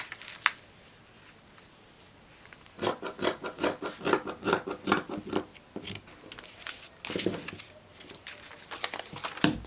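Scissors snip repeatedly through fabric for a handmade boot-style slipper, close and crisp, in quick rhythmic bursts of cuts with short pauses between runs.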